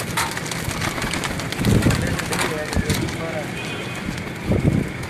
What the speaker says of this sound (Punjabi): ਇਹ ਗੋਲਡਨ ਕਬੂਤਰ ਹੈ ਜੀ